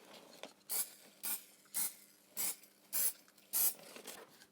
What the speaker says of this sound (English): I'm going to put my layering spray into little splurges